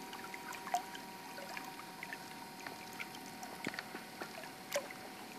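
Rhino Cobold 12V electric boat motor on its lowest speed setting, a faint steady whine on the water with soft splashes and light trickling around it.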